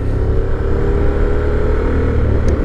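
A Honda Forza 750 scooter engine runs loud and close in sport mode, holding a steady high-revving drone with a rough, buzzing tone throughout and no talk over it.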